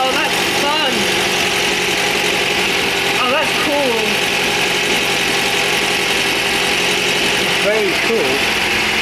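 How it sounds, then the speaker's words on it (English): A classic MGB GT car engine idles steadily with a constant rumbling drone and a blowing exhaust, while a person speaks briefly over it in short remarks. "The exhaust is blowing."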